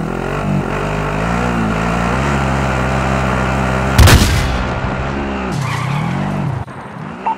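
Vehicle engine in the video game Warzone revving steadily with shifting pitch, loud and close, a sharp impact or gunshot burst midway, then the engine drops and fades near the end.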